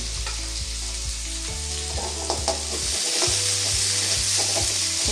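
Onions sautéing in a pan for a home-cooked lunch, a steady close sizzle of frying with repeated stirring scrapes throughout, no voices.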